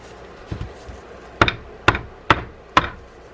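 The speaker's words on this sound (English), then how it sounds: "Tapping it generally will make that work." Metal cap on a Shimano Charter Special lever drag fishing reel tapped to pop it out: one soft knock, then four sharp, evenly spaced taps close up.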